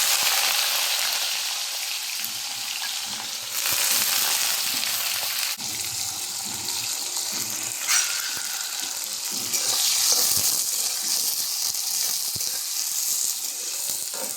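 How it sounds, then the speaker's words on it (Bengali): Onion goes into hot oil already seasoned with cumin, bay leaf and whole garam masala for a meat curry, giving a loud, continuous close sizzle with occasional stirring scrapes and surges of hiss. "আমি এখন পেঁয়াজটা দিয়ে দেব।"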